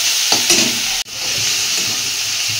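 Onion frying in a pan with ginger garlic paste and green chili, a loud continuous sizzle with stirring scrapes, briefly cutting out for an instant midway.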